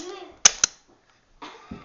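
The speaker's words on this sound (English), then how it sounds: "You can have fun shooting at ovens." Two sharp, close gunshot cracks at a shooting range fire in quick succession, with brief voices just before and after the shots.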